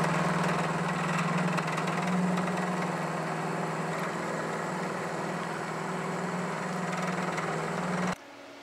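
A metal lathe turns hardened steel rack stock at 800 RPM in a workshop, giving a loud, steady motor drone with a constant hum that holds evenly for about eight seconds before cutting off abruptly near the end.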